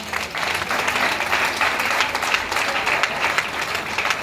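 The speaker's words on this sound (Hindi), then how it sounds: "उनके लिए जोरदार तालियां।" An audience at a Tiens India event in Delhi breaks into loud, sustained applause for the uplines, many hands clapping densely and steadily from start to finish.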